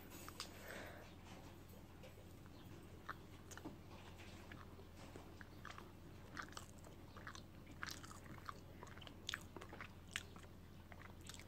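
Bites into a whole grain protein pancake followed by soft, close chewing, with scattered faint crunches and mouth noises over a quiet room hum.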